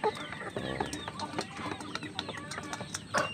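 Farm chickens running about and eating, a dense flock clucking and squawking continuously up close, with scratchy movement noise and no talk.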